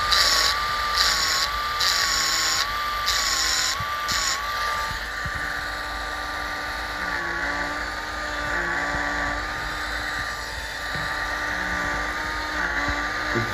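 A Micro Top MB-60 cordless rotary cutter motor runs steadily with a high, wavering whine while its blade is sharpened. A few short bursts of brighter grinding come early, then a continuous drone, with no talking.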